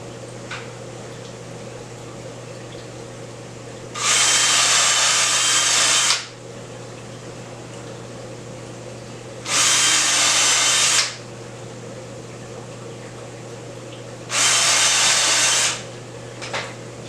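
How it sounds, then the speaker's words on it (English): A power drill driving screws into a wooden fish tank stand, three separate steady whirring runs of about two seconds each, loud and close, over a constant low hum. "Keep my screws away from the top because I will be screwing in"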